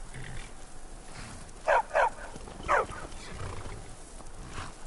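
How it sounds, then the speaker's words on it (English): A dog in the game Skyrim gives three short barks, two quick ones close together and a third a moment later, over low ambient game noise with no speech. "There's that dog."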